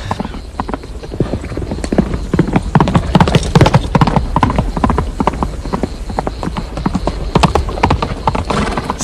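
A horse gallops with rapid, loud, steady hoofbeats, used as a sound effect in a Romanian radio drama about mounted soldiers. Some voices are heard faintly over the hooves.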